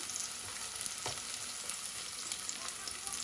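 Garlic hitting hot oil in a pot of dal on a home stove, giving a steady close crackling sizzle with a few sharper pops and brief stirring clatter.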